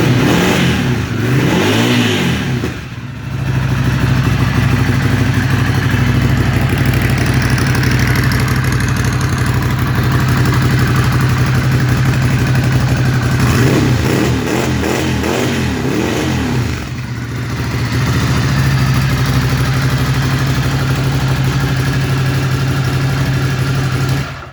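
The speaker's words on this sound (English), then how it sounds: "I'll give you a sample of the what the silencer sounds like" Ducati Scrambler motorcycle fitted with an aftermarket silencer, idling steadily with a low, even exhaust note, then blipped into a few sharp revs that rise and fall before it settles back to idle; close, loud and with no talking.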